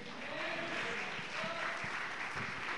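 Church congregation clapping steadily as a dense, even patter of many hands, filling the room at moderate loudness with no voices over it.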